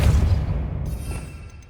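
In Hogwarts Legacy, the Depulso force spell lands as a short, heavy low thump that rolls off into a fading rumble with a faint airy tail.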